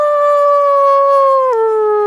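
A man imitates a wolf howl in a snowy winter outdoor setting, one loud, sustained, pure-toned wail that holds steady, then drops in pitch and trails on.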